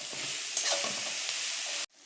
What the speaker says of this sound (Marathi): तो याच्यात परतायला टाकणार आहे